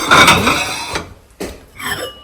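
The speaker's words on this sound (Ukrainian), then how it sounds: "Шафа, а в ній посуд тарілки ось такі" A few light ceramic clinks and clatters of plates being shifted in a kitchen cupboard come in short separate bursts with quiet gaps between them.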